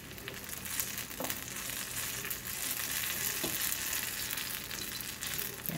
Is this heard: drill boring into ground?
no